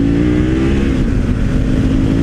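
A Honda Africa Twin CRF1000L2 and a KTM motorcycle accelerating hard on the road, a loud, steady engine drone with a rising pitch, heard close from the rider's position with rushing wind and no talk.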